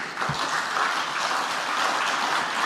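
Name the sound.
audience applauding weakly at party congress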